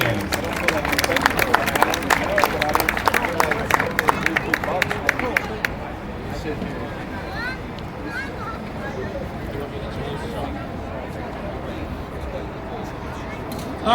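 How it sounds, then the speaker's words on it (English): Audience applauds candidates at an America First political rally in Washington, Pennsylvania: dense clapping for several seconds that then stops, leaving crowd murmur and background chatter. "So again, one more round of applause for this group of candidates."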